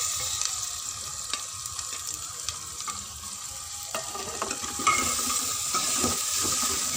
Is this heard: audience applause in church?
no